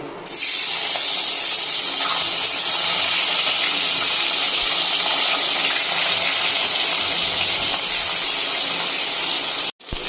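Steady, loud sizzling and crackling of small fish frying in hot oil fills the whole stretch, close by, with no talking.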